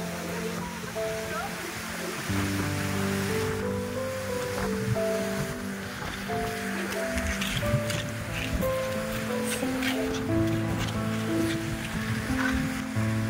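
Large Pacific Ocean waves about 1.5 meters high surge and wash along the Northern Samar coast in a steady broad roar, with sustained tonal music or humming layered over the surf throughout.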